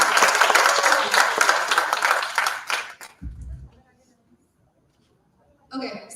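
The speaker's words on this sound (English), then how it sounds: "so now you can applause" An audience claps together in a dense, steady burst for about three seconds, then the applause thins out and fades into near silence before a voice briefly begins.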